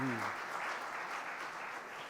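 Audience applause at a literary festival session, a steady wash of many hands clapping at moderate distance, continuous through the moment with a brief voice fading at the very start.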